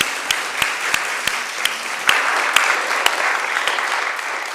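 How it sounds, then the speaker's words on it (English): Audience applause in a church for the reverend at a Burns association gathering, steady dense clapping from a sizeable crowd with a few sharp nearby claps standing out, no voices. "give a round of applause to the church and Reverend Johannes for everything"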